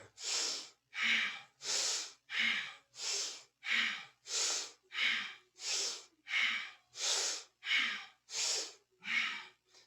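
Steady, rhythmic breathing during a Kundalini yoga kriya, about thirteen even inhale-exhale bursts over ten seconds, close and clear with no talk.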